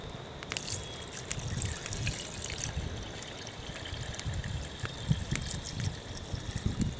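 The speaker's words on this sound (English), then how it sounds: "now all I'm going to do is just add some water" Water trickles and pours steadily into a pot set over a campfire in the woods, close and moderately quiet, with faint outdoor background and no talking.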